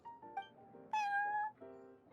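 Prince, a cat in the Genshin Impact video game, gives a few short, clear meows in close succession, the loudest in the middle, with no voices.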